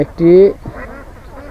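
A duck on a duck farm beside a house gives one short, nasal quack, with someone speaking Bengali just before and after it.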